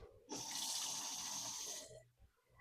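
Water pouring from a tap into a pot of beef and lamb bones for stock, a close, bright rushing stream that starts suddenly, runs steadily for about a second and a half, then cuts off.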